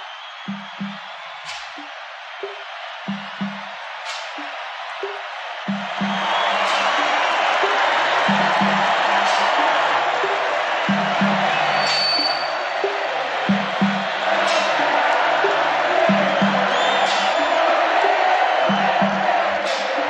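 A large outdoor rock concert crowd at Ferro in 1991 breaks into loud, sustained applause and cheering that swells after a quieter start with scattered musical notes and then holds steady.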